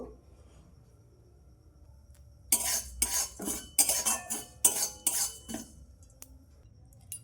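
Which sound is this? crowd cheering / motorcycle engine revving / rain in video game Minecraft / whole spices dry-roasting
whole spices dry-roasting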